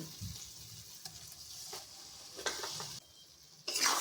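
Soft sizzling and scraping in a pan, with a sudden louder hiss near the end as boiled moong dal hits hot oil tempering.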